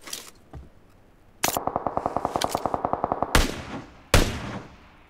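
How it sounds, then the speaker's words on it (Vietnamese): Gunfire from a firefight by the main road in PUBG Mobile: a single shot, then a rapid automatic burst of about twenty evenly spaced rounds, followed by two sharper, louder single shots echoing out, moderately distant, no talk. "Bên khu đường cái bắn nhau anh em ơi"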